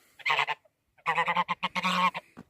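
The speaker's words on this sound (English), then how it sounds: "Mr. Goose wants to attack me again." A goose honks in a snowy yard on a winter day, a short loud burst followed by a rapid run of harsh, close honks with no talking.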